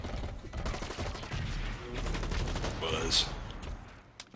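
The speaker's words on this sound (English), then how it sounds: "As soon as I spawned in, I get shot twice." Rapid bursts of gunfire from a first-person shooter game fire in quick succession under a soft voice, with a sharper metallic crack standing out near the end.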